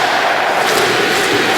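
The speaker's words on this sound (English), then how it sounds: "The fans chanting CBJ" Hockey fans at a Columbus Blue Jackets home game against the Minnesota Wild chant "CBJ" as one large crowd, a steady, dense roar that holds at full loudness throughout.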